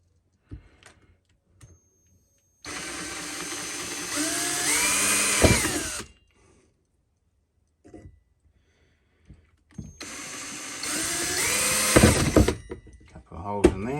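A power drill bores holes for a homemade electrolysis tank in two loud bursts of about three seconds each, its whine rising and falling, separated by quiet gaps with small handling knocks.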